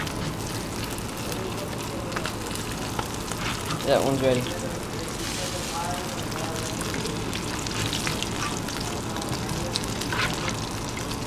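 Bluegill fish sizzle and crackle steadily in a frying pan, a continuous hiss with occasional pops while a person briefly speaks over it.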